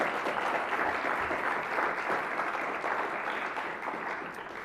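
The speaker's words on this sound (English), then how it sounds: "So if we could give them a round of applause, we'd appreciate it." An audience at a law school State of the School Address applauds in a steady, dense wash of clapping that holds loud for several seconds before easing slightly, with no voices over it.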